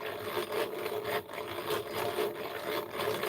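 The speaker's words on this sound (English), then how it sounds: "Is this ball winder really loud?" A ball winder spins thin yarn into a ball, giving a continuous soft, rubbing whir at a steady, fairly quiet level with slight rhythmic pulses throughout and no talking.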